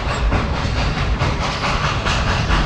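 The Dollywood Express train, pulled by the Klondike Katie engine, rolls along with a steady rhythmic clickety-clack of wheels on rails and a soft hiss, at moderate loudness and without speech.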